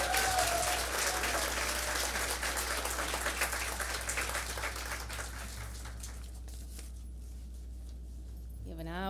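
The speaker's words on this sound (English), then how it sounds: "Let's give them another round of applause." Sustained audience applause at a university public health community celebration and graduation event, a dense wash of many hands clapping that slowly thins toward the end, with a low hum underneath.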